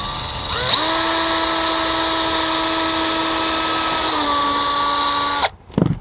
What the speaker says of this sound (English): we're going to pre-drill these holes in here so we can put our screws in here